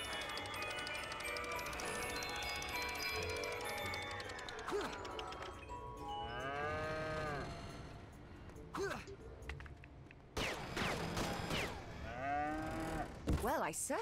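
A cartoonish cow moos several times in the Lego Marvel Avengers video game, the drawn-out lowing calls standing out against game music and effects, with a short crash in between.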